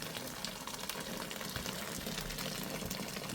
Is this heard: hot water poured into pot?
yes